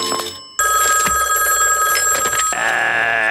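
A cartoon pay phone rings loudly and steadily with a bright electronic bell, with a brief pause after the first burst and a shift in tone near the end.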